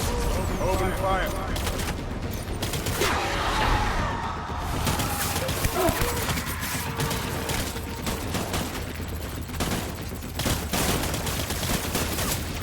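Gunfire in a Death Stranding finale fight: dense, rapid volleys of shots rattling almost continuously over a noisy, rumbling battle, with a voice speaking over it.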